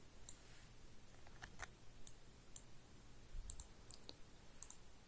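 Faint, scattered mouse clicks while working in the Movavi video editor, including a quick double click, with no talking.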